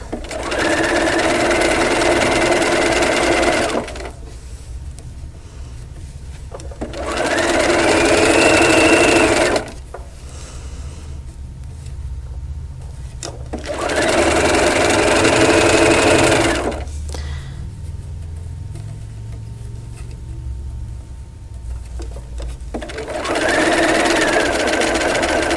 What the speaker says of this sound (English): And I'm just going to keep sewing around to the slit.